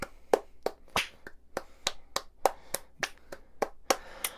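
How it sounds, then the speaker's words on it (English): Steady, sharp claps ring out one after another in a quick, even rhythm, crisp and fairly close, with no voices over them. "And everyone clap."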